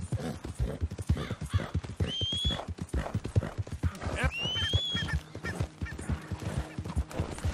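Horse hooves clip-clopping in a steady trotting rhythm in Red Dead Redemption 2, close and clear, with a couple of whinnies over the beat.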